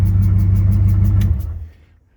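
A bone-stock 390 V8 with a large Flowmaster muffler idles with a deep, steady rumble close up, then fades and cuts off near the end.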